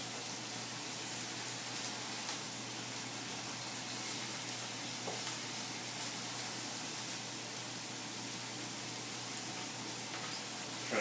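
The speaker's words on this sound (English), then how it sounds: "just kind of roll them around, try to get them browned pretty well on all sides" Meatballs browning in a frying pan while being rolled to cook on all sides, giving a steady, continuous hiss of sizzling fat that stays fairly even and close throughout, with no talk.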